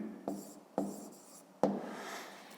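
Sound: writing a math solution

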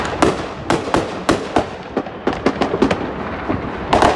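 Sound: fireworks and gunshots on New Year's in Houston, Texas

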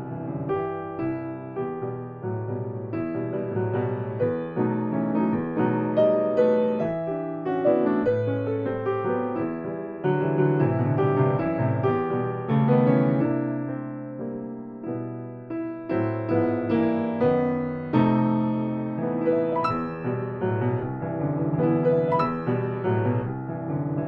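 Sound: Margaret Bonds' Troubled Water, theme of spiritual Wade in the Water

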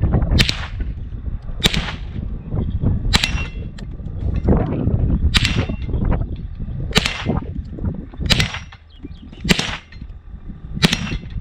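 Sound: Savage Model 64 Takedown rifle test firing

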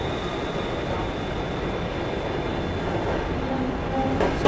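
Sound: Brahmaputra Express train slowing down on the rails

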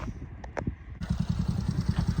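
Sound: moped engine starting

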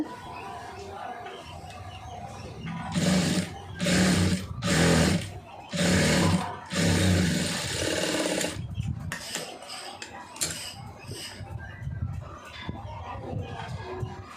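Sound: sewing machine stitching a star neck design

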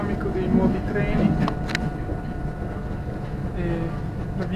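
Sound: new panoramic train running

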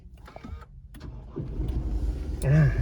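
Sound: Isuzu V-Cross 3.0 engine push-button starting

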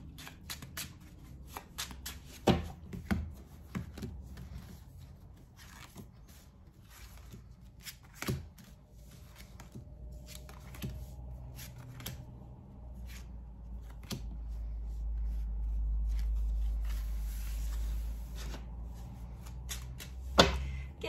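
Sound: shuffling tarot cards

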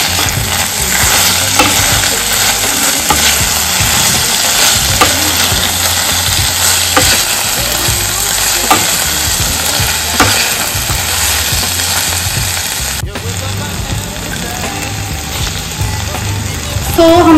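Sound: pahadi sabzi cooking and sizzling in a pan

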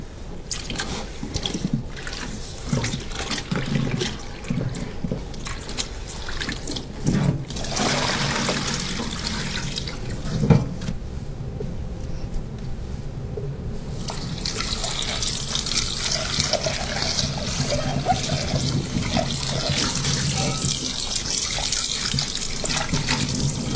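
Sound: washing Le Creuset enamel cast iron pot with sponge in hot water

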